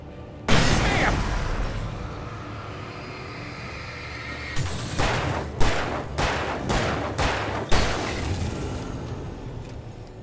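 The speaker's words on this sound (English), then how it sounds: "Flashbangs are so good." Flashbangs go off in the Alan Wake game: a loud blast followed by a sustained roar, then a series of sharp booms at irregular intervals.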